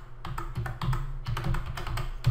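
Computer keyboard typing, a quick run of close, crisp key taps in an uneven rhythm, fairly quiet and without speech.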